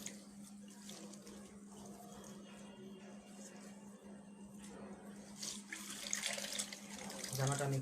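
Tap water running into a sink while a hand-dyed shirt is rinsed, a steady splashing stream with a low hum beneath, growing louder toward the end.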